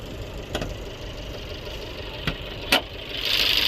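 Idling 1.4-liter 101-horsepower engine of a 2014 Fiat 500 Pop under its open hood: a steady, fairly quiet mechanical hum with a few sharp clicks and a brighter hiss rising near the end.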